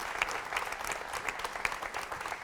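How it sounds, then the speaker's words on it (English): An audience applauds at a Pilsen neighborhood town hall event, a steady, dense patter of many hands clapping throughout at moderate level with no speech over it. "A round of applause, please, for Alderman Danny Solis, Raul Raimundo, Vi"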